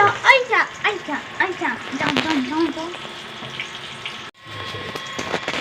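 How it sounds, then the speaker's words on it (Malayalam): Coconut oil poured into a hot pan for a homemade curry gives a soft, steady hiss that rises near the end, after a stretch of talking. "വെളിച്ചെണ്ണ ഒഴിച്ചു കൊടുക്കട്ടെ കേട്ടോ"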